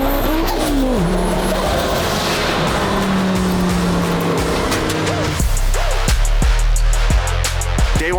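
A fast car drives hard with loud tire squeals and skidding, the engine rising and falling through shifts close by, with squealing tones sweeping across the whole stretch.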